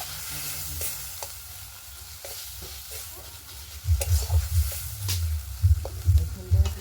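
Meat masala is sautéed in a pan of goat-fat curry, a constant close sizzle with scattered spatula clicks, joined midway by heavy rhythmic thumping and scraping as the mixture is worked vigorously.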